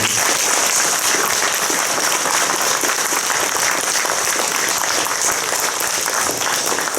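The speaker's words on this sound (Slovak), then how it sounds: "poprosím o jeden veľký potlesk pre pani Danku Strapkovú" A concert audience at a New Year's concert in Streženice gives steady, loud, sustained applause that fills the whole stretch without letup, with no voices over it.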